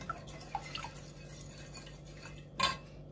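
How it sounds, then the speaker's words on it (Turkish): Rock salt stirred into water for curing green olives, a spoon clinking lightly against a bowl with soft scraping and a brighter clink near the end, fairly quiet and alone. "Şöyle karıştırıyorum bakalım. İyice erisin kaya tuzum suyun içinde."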